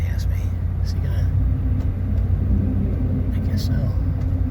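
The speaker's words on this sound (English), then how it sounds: "This truck's going to pass me." Steady low engine rumble and road roar from a large truck passing on a highway, loud and continuous throughout.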